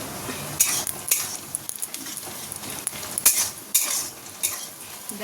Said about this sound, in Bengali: চলো, পেঁয়াজটা প্রথমে লাল লাল করে ভেজে নিই।